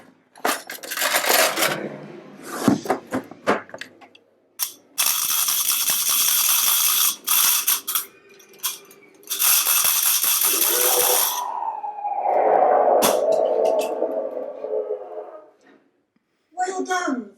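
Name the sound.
objects rattled to mimic a rattlesnake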